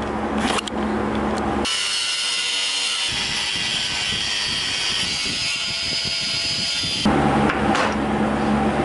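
An angle grinder cutting a plastic tab off a car cooling fan during Subaru Forester XT timing belt work, a loud continuous harsh whine and grinding rasp that shifts in tone midway, close up with no speech.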